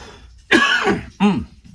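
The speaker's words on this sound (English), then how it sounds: "Here comes the cough, folks." Two loud, close coughs from a man with allergies, one longer and raspy followed by a shorter, throatier one, with a brief pause between them.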